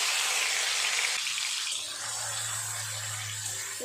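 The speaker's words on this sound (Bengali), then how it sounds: "একটু নেড়ে চেড়ে ভেজে নেবো চিংড়ি মাছ ভাজা হতে বেশি সময় লাগে না" Shrimp sizzling in hot oil for a Bengali jackfruit-and-shrimp dish, a steady bright hiss of frying that settles slightly midway as a low hum joins beneath it.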